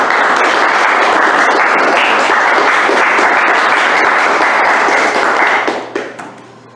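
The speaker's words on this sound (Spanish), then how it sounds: "Quiero que recibamos con un buen aplauso" Audience at a literary event honoring writers applauds with steady, dense clapping for several seconds, then the applause quickly thins and fades out near the end.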